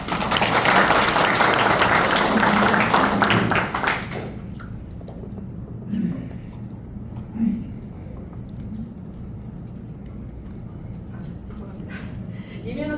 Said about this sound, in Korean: 안승남 시장님께 박수 한번 보내주시겠습니다.